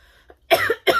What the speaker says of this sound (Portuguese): vamos ver se não piora a tosse